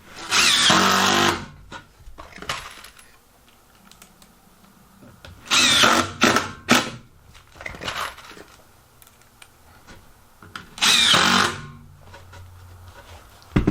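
A power driver sinks screws into closet framing wood, firing in three loud, short bursts several seconds apart, with quieter handling and knocking sounds between them.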